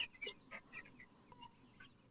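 Young chickens kept in a poultry shed and suffering from paralysis, making faint, soft clucks and chirps that repeat in short bursts, distant and low.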